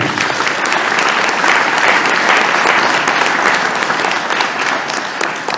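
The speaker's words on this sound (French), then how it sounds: "Vous pouvez l'applaudir." Dense, even applause from the audience at a Normandy car rally ceremony, many hands clapping loudly and continuously with no talk on top.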